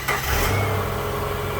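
A Subaru Forester with an oil leak cranks and fires, a brief burst of starter noise settling quickly into a steady, close engine idle with no talking.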